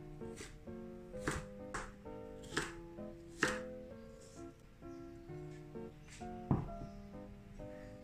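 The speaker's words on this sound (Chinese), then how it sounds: "准备半条黄瓜，把黄瓜切条再切成丁" A knife chops half a cucumber into strips and then dice on a board. The crisp strikes land at an uneven rhythm over soft background music.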